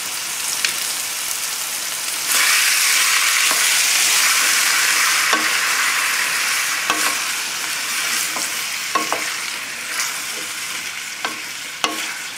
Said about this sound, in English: Just stir it every minute or so until everything looks soft